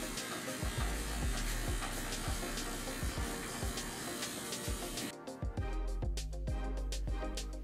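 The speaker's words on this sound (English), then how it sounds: "I kind of pull away the clippers and continue to move around the head" Electric hair clippers cutting a person's own hair in a home haircut, a steady close buzz with rhythmic low thumps as the clippers move around the head, briefly dipping near the end before resuming.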